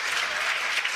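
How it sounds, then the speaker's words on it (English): Dense, continuous applause from a live radio show audience at an arena, a steady wash of many hands clapping at once, loud and sustained across the whole moment. "How about a round of applause for that?"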